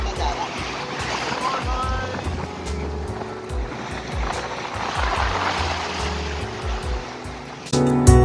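Ocean waves wash and surge continuously at Kala Patthar beach, with a steady roar of surf and a sudden louder burst at the very end.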